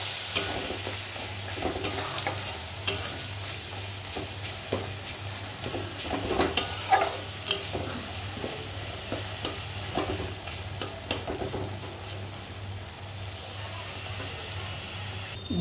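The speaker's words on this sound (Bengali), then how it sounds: "সব কিছু ভালো করে মশলাগুলো কষিয়ে নেব।" Spices for palak paneer, including chilli powder and vegetable masala, are stirred and sautéed in a hot pan, with steady sizzling and scraping that run continuously at close range, without talk.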